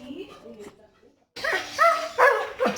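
A chow chow dog gives several short, loud barks and yelps in quick succession, close by, after a stretch of quieter sounds.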